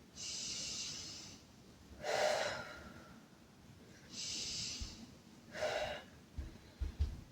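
Slow, deliberate breathing during a yoga pose: two full cycles of soft airy inhales and stronger exhales, close and quiet, with a few small bumps at the end.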